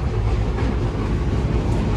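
Sundarban Express passenger train running between Chuadanga and Jashore, a continuous loud rumbling roar with faint rhythmic rattling of the carriages, heard from on board without talk.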